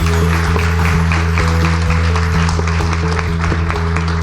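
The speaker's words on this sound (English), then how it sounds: "give a warm round of applause to our panelists" At the Philanthropy Asia Summit 2024, during a wealth management session, the audience claps for the panelists: a loud, steady wash of clapping over a strong continuous low hum throughout.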